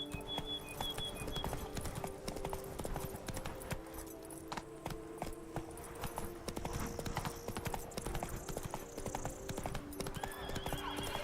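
Roach the horse galloping in the video game The Witcher 3, a quick, continuous clip-clop of hooves with a whinny, set under a steady tonal game score.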